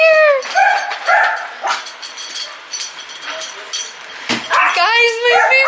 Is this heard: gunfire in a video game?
no